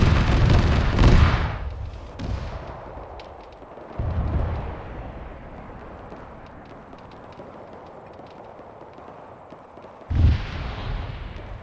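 In ArmA 3 gameplay, loud close explosive blasts boom at the start, around four seconds and near ten seconds, each followed by long rumbling decay and scattered distant gunfire.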